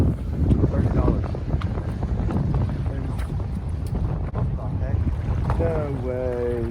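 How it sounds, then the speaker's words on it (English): Strong wind buffets the microphone on a freezing winter day out on the water during bass fishing, a loud constant roar and rumble that lasts the whole clip, with a voice faintly underneath. "as you can hear, the wind was blowing pretty hard."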